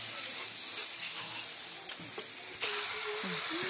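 Spices frying in a pan for a meat curry, a soft steady sizzle with a few sharp clicks of a spoon against the pan and one scrape near the end, no voices.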